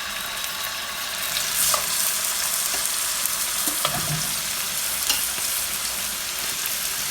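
Pre-seasoned pork sizzling hard and steadily in a hot pan, the frying loud and close, with a few clicks and scrapes as pieces are laid in, and nobody talking.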